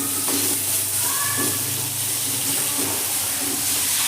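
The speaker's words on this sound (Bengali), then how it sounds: "এবার এর মধ্যে আমি দিয়ে দেবো টমেটো। একটা গোটা বড় টমেটো আমি এর মধ্যে দিয়ে দিলাম।" A whole large tomato frying in a little oil in a pan of pointed gourd and potato curry gives a steady, close sizzle and hiss throughout, with faint clinks of cookware and no talking.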